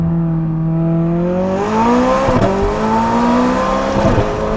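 A McLaren 600LT engine revs up through the gears, its pitch climbing smoothly and then dropping sharply at each shift, with a quick crackling pop on the changes; loud and close, no voices.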